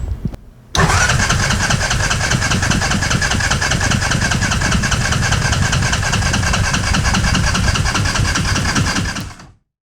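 A Honda Ruckus scooter's small engine catches after a brief quiet moment and then runs steadily and loudly close by, a continuous buzzing drone that carries on for several seconds before cutting off abruptly.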